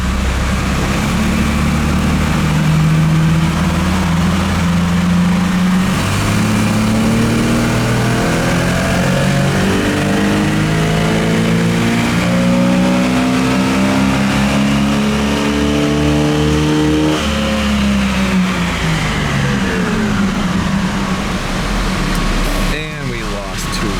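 A loud carbureted 1968 Camaro inline-six engine revs up gradually on a dyno, holds at high speed, then winds back down, its roar steady and close throughout.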